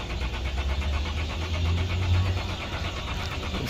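A 2011 Lexus IS300 with a crank-no-start fault churns steadily on the starter, a rapid, even, rhythmic cranking that stays loud and close throughout without the engine catching, with no voices.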